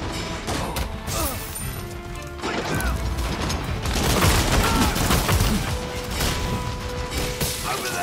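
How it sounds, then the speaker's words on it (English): Machine gun fire in Rise of the Ronin during the Kaishu Katsu boss fight, a dense rattling burst of rapid shots with clanking mechanical noise, loud and continuous over a busy battle mix. "Yeah, the machine gun."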